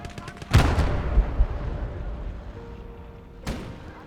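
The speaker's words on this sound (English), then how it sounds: "I then try to shoot it and end up killing a load of tank crew." Gunfire and heavy impacts in the World War II game Gates of Hell as a tank comes under fire: a loud blast near the start, rumbling debris, then a second sharp shot later, with mumbled speech mixed in.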